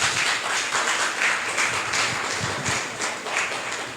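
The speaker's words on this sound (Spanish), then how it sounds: "Un aplauso a esos hermanos." An audience at a marriage retreat applauds a couple, a full, continuous burst of many hands clapping together, loud and sustained throughout with no speech over it.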